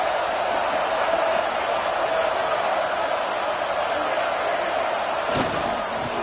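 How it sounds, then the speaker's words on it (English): Stadium crowd in a college football video game against Florida State, a dense, loud and continuous roar with a brief thump near the end, heard under play-by-play commentary. "This crowd trying to make life miserable for this offense"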